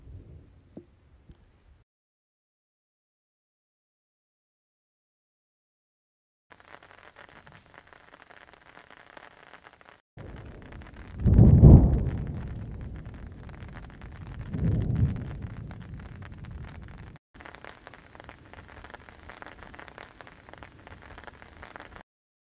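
Rain falls steadily during a thunderstorm with upward lightning on 13 June 2018, a constant hiss broken by two deep rolling thunder rumbles in the middle before the downpour continues alone.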